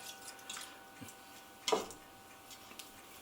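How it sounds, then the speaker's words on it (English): Brown rice grains are pressed down into cold water in an Instant Pot, giving faint wet taps and one soft squishy splash, quiet and close. "I'm just going to push those grains down into the water."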